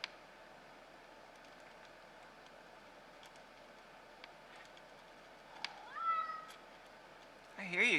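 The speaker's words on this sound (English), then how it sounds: "I hear you, cat." A cat meows near a workbench of electronics, a short rising cry late in the quiet, low-level room tone, with a faint tick or rustle beforehand.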